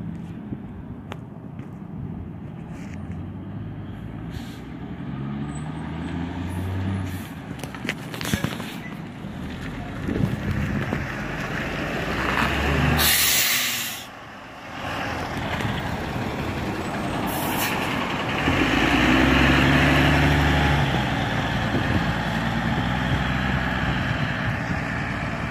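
Cowra Bus Services coach 3519MO, a Starliner body on a Metro Tech Delta chassis, idling at the depot with a steady low engine rumble, a sharp air-brake hiss partway through and faint voices.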